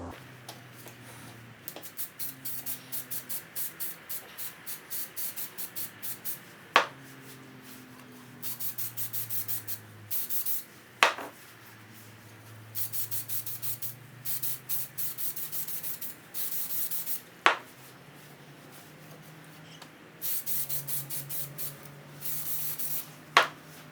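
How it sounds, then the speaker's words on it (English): Short hissing bursts of a spray can laying clear coat on Ford Fairlane car parts, repeated many times in quick pulses with brief gaps, plus a few sharp clicks and light handling noises. "and then give it a quick spray"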